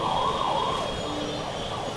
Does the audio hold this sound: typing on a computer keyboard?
no